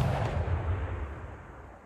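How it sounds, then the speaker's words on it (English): Artillery fire from a field cannon unit in the strategy game Civilization VI, a single heavy booming blast with a rumbling low-end decay trailing off over about two seconds, no voices. "And blast him with artillery."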